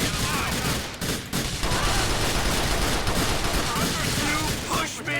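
Rapid, sustained gunfire in GTA: The Lost and Damned, a dense unbroken fusillade of loud bursts filling the whole stretch with only brief dips, heavy and close.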